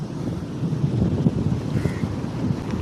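Wind gusts buffet the microphone on a rainy beach, with a low, rumbling rush of waves and surf underneath, loud and close, and no voices.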